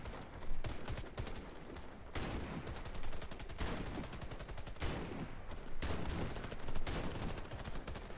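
Rapid bursts of gunfire from the online shooter game Warface, repeated volleys and sniper-style shots cracking loudly across the whole stretch with dense, sustained noise and no talking.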